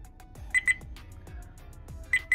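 A Viofo dash cam beeps as its recording stops: two pairs of quick, high electronic beeps, the second pair about a second and a half after the first. They are faint and sit over a quiet background.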